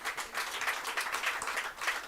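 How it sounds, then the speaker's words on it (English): An audience claps in steady, dense applause at a football sponsorship launch, moderately loud and sustained throughout with no voice over it. "Can we give that a big round of applause?"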